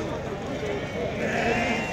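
Sheep bleating amid the busy Tuesday livestock market in Azrou, Morocco, with a continuous murmur of crowd noise and people talking close by.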